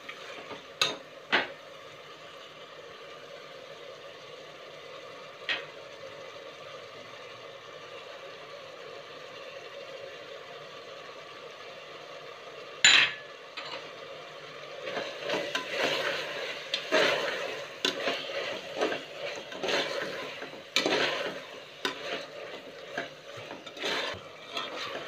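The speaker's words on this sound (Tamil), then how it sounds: "இது கூடவே நான் கொத்தமல்லி புதினாவும் போட்டுடுறேன். எல்லாம் சேர்ந்து வதங்கி வரட்டும்." Coriander and mint leaves sauté in a pan beside tomatoes while mutton biryani is prepared, giving a low continuous sizzle with occasional sharp clinks and, later, louder stirring scrapes and rustles.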